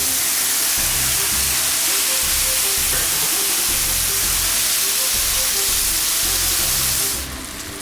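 Tomatoes dropped into a hot frying pan with browning chicken breasts give a loud, steady sizzle and hiss that runs unbroken for several seconds, then eases off slightly near the end.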